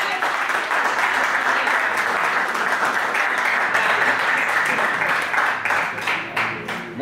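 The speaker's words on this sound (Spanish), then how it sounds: "quiero un aplauso, por lo menos de agradecimiento al Padre" A church congregation gives sustained applause, a thick wash of many hands clapping at an even level before gradually thinning out toward the end.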